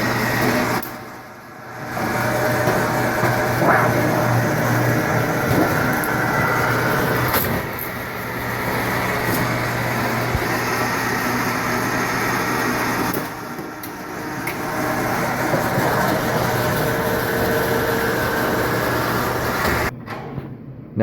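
A Pittsburgh lock machine rolls a bend into sheet metal for a 24x24-inch rectangular duct fitting: a loud, continuous mechanical roar with brief dips where the motor drops off, then resumes.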